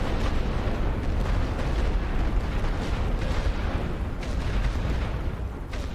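Heavy artillery in The Great War: Western Front, a continuous dense roar of distant shelling and rumbling explosions that merge into one loud, steady wash of sound for several seconds, with no pauses and no talking.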